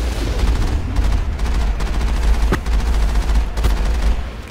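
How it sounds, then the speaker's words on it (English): Turret gunfire in the video game Mass Effect 1, a loud, steady stream of rapid shots over a heavy low rumble, with a few sharper impacts standing out. "Nice if I could control this turret a little better."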